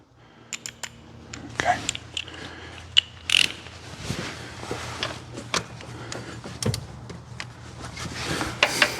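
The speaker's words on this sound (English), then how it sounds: "Just got my torque wrench handy here." Clicking, ratchet-like mechanical ticks from a torque wrench being worked on a 2006 Honda Odyssey V6 engine, irregular close clicks over a low steady hum, with a voice speaking at times.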